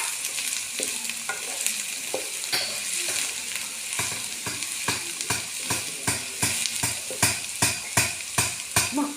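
Green chili paste stirred into hot oil while cooking cauliflower, a continuous frying sizzle under regular spoon scrapes that grow into a steady, strong beat of strokes toward the end, close and without talk.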